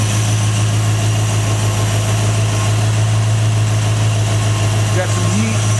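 A 1957 Chevrolet engine with a freshly installed distributor idles at operating temperature, a loud, close, steady low rumble and hum that holds even and unbroken throughout.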